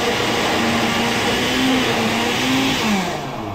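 Inside a truck, a blender whirs loudly and steadily at close range while mixing a drink, its motor pitch wavering slightly before winding down near the end.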